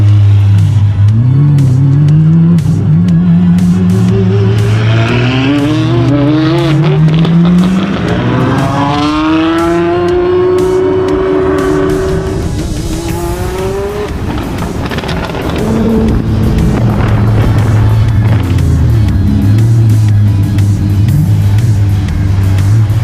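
A right-hand-drive car called the Golden Dragon revs loudly and close by, its engine note rising and falling in repeated sweeps that build to a high scream, with a brief lull before it revs again.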